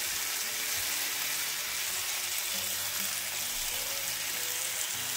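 Meat frying in a pan, a steady bright sizzle that hisses continuously at moderate loudness, with faint clinks and kitchen sounds underneath and no talk.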